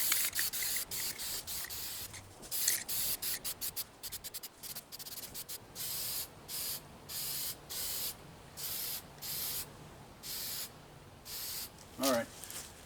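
Short bursts from a spray paint can coating parts of a 3.5 HP Briggs & Stratton lawn mower engine, sharp hissing puffs that start rapid and then settle into a steady, evenly spaced rhythm, up close.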